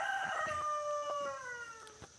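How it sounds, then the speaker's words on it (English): A single rooster crows once, a long descending cock-a-doodle-doo heard at moderate distance and fairly faint, with no voices. "The rooster says good morning."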